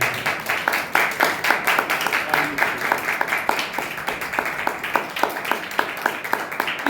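A church congregation claps together in a fast, steady rhythm, loud and close, with a voice faintly present beneath the applause.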